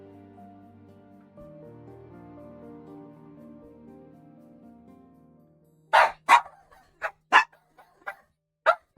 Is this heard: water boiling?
no